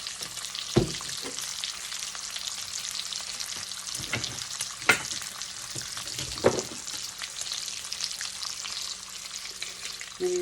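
Sausage sizzles in bacon fat in a pan as milk goes in for gravy, a steady frying hiss with a few sharp clinks and scrapes of a utensil against the pan.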